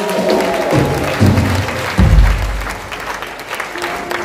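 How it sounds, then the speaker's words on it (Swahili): A church congregation claps loudly and continuously, dense applause filling the space, with some voices mixed in underneath. "pigia Bwana Yesu makofi huko juu"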